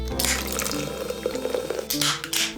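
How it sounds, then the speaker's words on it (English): Liquid is emptied out of a bottle, gurgling and splashing in short uneven bursts close by, with no talking. "You're gonna wanna empty this rat poison."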